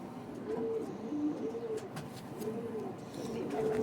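Pigeons coo in a series of soft, rounded calls repeated at a steady rhythm, heard close up with no talking. The birds are about four years old, with golden-shaded feathers and purple feet.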